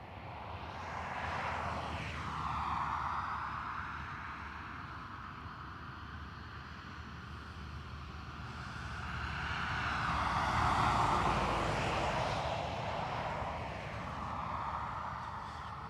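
Jet airliner taking off from runway 10 right at Dublin Airport, a distant rumbling engine roar that swells and fades gradually, heard alone without talk.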